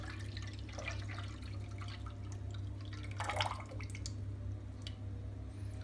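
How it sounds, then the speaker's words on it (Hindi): Thick tamarind pulp poured into a pan on the stove, giving soft wet drips and splashy plops over a steady low hum, moderately close with no talking. "इसमें इमली का पल्प डालें"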